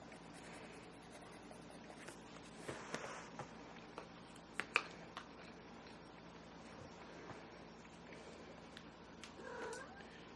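Pet cat meowing indoors, a few faint short cries and murmurs over steady background hiss and light rustling, with no talk.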